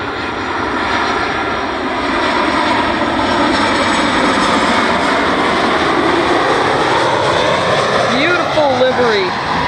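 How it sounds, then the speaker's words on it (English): An Alaska Airlines oneworld Boeing 737-900 jet lands at Dulles with a loud, sustained engine roar close by. An excited voice talks over it near the end. "Here comes the Alaskan One World Boeing 737-900."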